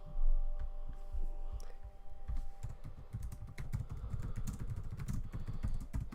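Rapid, irregular clicking of a computer keyboard as someone types, steady and close throughout, with a low background rumble underneath and no voices.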